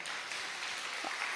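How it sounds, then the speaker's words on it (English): Applause from an audience at an academic law conference session, a steady dense patter of many hands clapping throughout, fairly loud and continuous. "give applause to our speakers"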